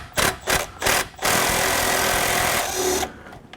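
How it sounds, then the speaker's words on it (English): A ratchet turns a deep well socket on a suspension bolt of a 2WD Silverado/Sierra pickup, with a few choppy bursts, then a close, continuous, loud mechanical buzz before stopping. "At the point now where a deep well socket would probably go much faster."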